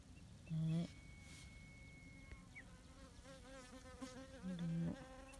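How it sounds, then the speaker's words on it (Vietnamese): Honeybees forage for pollen on squash flowers in a garden, a steady close buzzing with louder low hums swelling twice as bees pass near, under faint background sounds. "Rất nhiều ong luôn ở cánh vườn bí nhà mình nhá"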